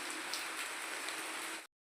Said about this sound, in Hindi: बारिश तो अच्छी खासी हो रही